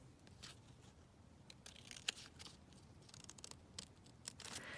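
Scissors snip through card as it is trimmed into a banner shape, a quick run of close, crisp cuts over a soft background hum.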